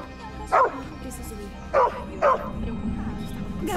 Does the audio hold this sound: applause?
no